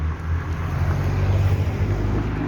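Continuous low rush of the Ganga river flowing at Devprayag, mixed with the rumble of passing vehicles, a steady, fairly loud wash with no voices.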